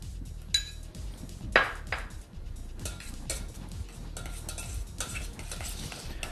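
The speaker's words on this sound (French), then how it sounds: "on va prendre notre ricotta, qu'on va mélanger au fromage frais ail et fines herbes" A spoon stirring ricotta together with garlic and herb fresh cheese in a bowl, close soft scraping and clicking strokes at an uneven rhythm, with one sharper clink of utensil against the dish.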